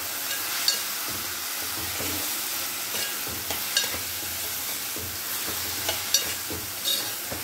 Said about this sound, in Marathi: सो आता हे सगळं आपल्याला व्यवस्थित भाजून घ्यायचं.